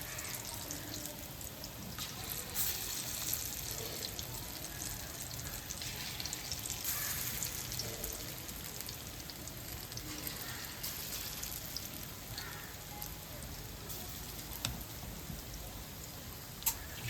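Homemade lentil bori fry in a pan of oil with a steady, dense sizzle and crackle that holds for the whole stretch, close and fairly loud, with no talk over it.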